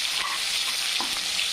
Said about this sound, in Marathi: जिऱ्यानंतर कांदा टाकून घेऊ। कांदा छान असा फ्राय होऊ द्यायचा आहे आपल्याला।